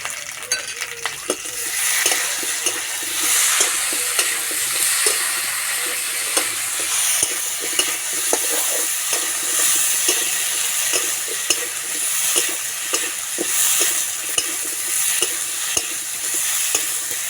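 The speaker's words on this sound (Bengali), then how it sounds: "আলু বেশ লাল লাল করে ভেজে নিয়েছে এবার বেটে রাখা মশলা দিয়ে দেবো" Browned potatoes fry with ground spice paste and turmeric for a fish curry with raw banana, a loud, close sizzle punctuated by frequent rhythmic clinks and scrapes of a spatula stirring the pan.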